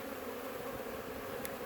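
Honeybees buzz around a hive in a steady, even drone that fills the whole short stretch at a moderate level, with no voices over it.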